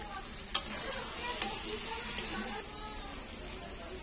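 Fried pointed gourd stirred and sizzling in a pan, a steady soft frying hiss with a few sharp scraping clicks of the spoon against the pan.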